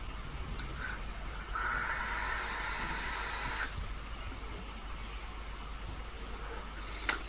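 Vapor hisses in a long, steady breathy rush as someone draws on a Fumytech Dragon Ball atomizer set to 50 watts with the airflow fully open. The hiss lasts a few seconds, then gives way to a faint quiet background.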